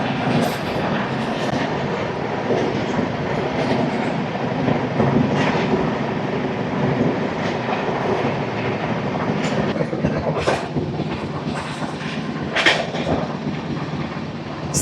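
Andhra Pradesh Superfast Express 20805 running through Annavaram station without stopping, a loud continuous roar of rolling wagons with rhythmic wheel clatter and occasional sharp rattles, sustained for the whole stretch with no talk.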